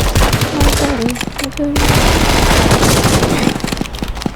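Rapid automatic gunfire from a light machine gun in the video game Roblox, a loud continuous stream of shots with brief pauses, while voices speak over it.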